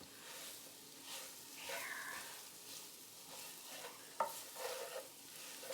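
Beef being stirred in a skillet as it cooks, a steady low sizzle under scraping and clinking of the utensil against the pan, close and fairly quiet, with no talking.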